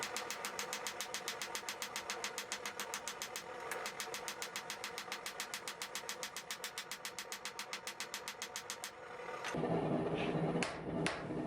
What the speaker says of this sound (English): making sure that I stretch it out while hammering evenly on both sides